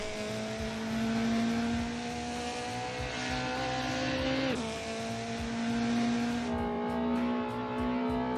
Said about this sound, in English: it's got a good gearbox whine as well